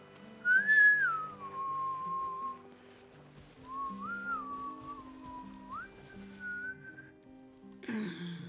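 A person whistles a few slow, wavering notes in separate phrases, fairly quiet and close, over soft background music.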